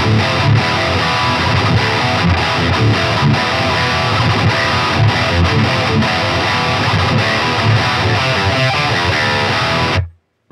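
Heavy distorted electric guitar riff, chugging low palm-muted notes broken by percussive dead-note chokes, loud and dense throughout, stopping abruptly at the end.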